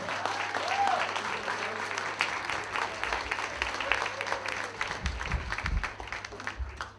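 Audience applause after a student skit at a nursing graduation, fairly faint and uneven clapping from a crowd with a low hum beneath and some voices mixed in.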